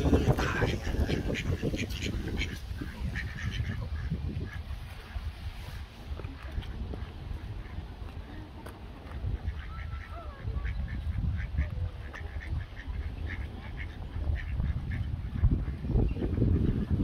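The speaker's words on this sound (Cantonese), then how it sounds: "呢隻天鵝最大啊！" Swans and other waterfowl on a river at Marlow, Buckinghamshire, give repeated quacks and honks, some near and some farther off, over a low steady background, with occasional voices.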